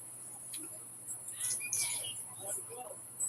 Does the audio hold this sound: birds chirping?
yes